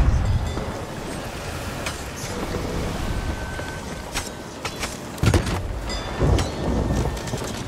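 Heavy rain pours in a stormy Sea of Thieves game scene, a dense continuous hiss with low rumbling thunder swelling through, plus a few sharper splashes and knocks near the end.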